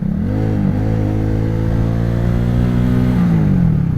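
XMT 250cc motorcycle engine revving up close, a steady loud mid-pitched drone with shifting pitch as the throttle rises and falls over several seconds, no voices.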